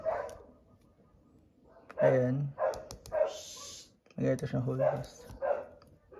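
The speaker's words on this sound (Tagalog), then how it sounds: "Pasensya na kayo sa aso, masyadong maingay eh." A small dog barks and yips in short bursts close by, mixed in among a person talking over a 1998 DC Comics Batman toy with a yellow belt.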